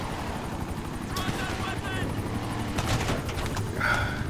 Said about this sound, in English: they only spawn more helicopters after a while